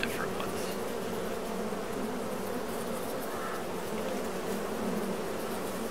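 Bees hum around honey boxes in the farming simulation game Farming Simulator 22. A steady, even buzzing drone holds at a constant level throughout, with no voices over it.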